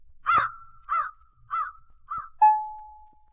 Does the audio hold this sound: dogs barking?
no